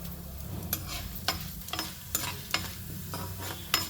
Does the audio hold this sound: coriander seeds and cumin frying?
yes